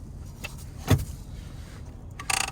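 Foot-operated parking brake pedal in a 2021 Honda Passport EX-L AWD being pushed to set, a single sharp mechanical clunk near the one-second mark inside the quiet cabin, followed later by a brief ratcheting rattle.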